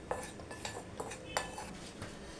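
A spoon stirs dry baking powder into a thick batter in a bowl for a stuffed paneer sandwich, making soft scraping sounds broken by several light clinks of metal against the bowl.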